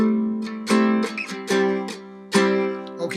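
A backpacking travel guitar strums the chords of "Whiter Shade of Pale" with the other strings left open, five or six bright ringing strums that let each chord sustain, played alone and close.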